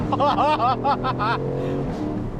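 An Aston Martin Vantage Roadster V8 engine roars close by as it pulls away, a deep loud rumble rising in pitch, with a brief voice heard over it.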